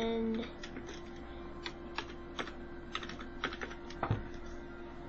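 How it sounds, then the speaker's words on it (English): Computer keyboard typing, a quiet, irregular patter of light key clicks in short bursts over a low steady hum, close by and faint, with no talk over it. "if you want to see what I'm just typing over here."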